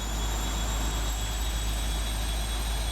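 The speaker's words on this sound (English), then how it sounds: "Wow, that's loud. Those are some engines." The jet engines of a British Airways 747-400 in the Prepar3D flight simulator spool up into a loud, steady roar with a thin high whine running through it. No talk is heard.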